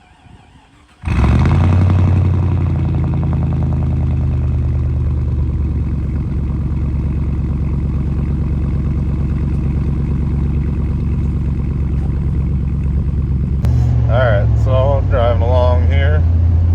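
A 2002 Chevrolet Silverado pickup with a rear clunk rolls along on a test drive, its engine and cabin drone starting abruptly and holding loud and steady, with a voice briefly heard near the end.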